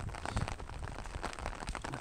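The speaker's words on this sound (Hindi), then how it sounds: "आज सुबह से जब से उठा हूँ सो करके तब से देख रहा हूँ कि बारिश ही हो रहा है" Steady morning rain falls outdoors as a soft, even patter with no talking.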